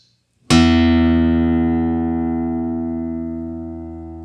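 A single low E guitar string plucked once, ringing out clearly with a long, slowly fading sustain after a brief silence.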